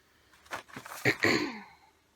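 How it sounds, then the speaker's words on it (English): A person who is getting over an illness gives a few short, rough coughs close to the microphone, in two or three quick bursts, with no speech. "Excuse my coughing"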